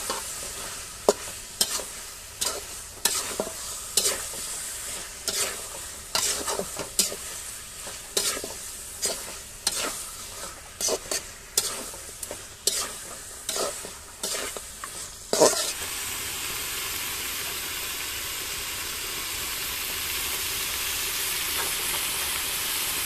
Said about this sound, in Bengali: মশলার সাথে মাংসগুলো ভালো করে কষিয়ে নিতে হবে।